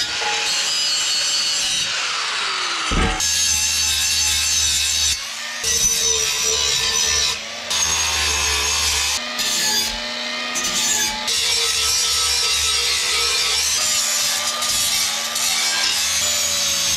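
Repeated cutting strokes of a hand tool through wood, loud and close, in several bursts with short pauses between them.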